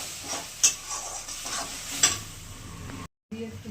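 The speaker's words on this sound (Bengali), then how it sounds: "দিয়ে একটু কালো জিরে ফোড়ন দিলাম" Nigella seeds (kalo jeere) tempering in hot oil for a curd prawn dish, a steady close sizzle and crackle with a few sharp pops and stirring scrapes, cut by a brief gap near the end.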